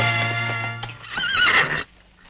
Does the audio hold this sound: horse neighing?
yes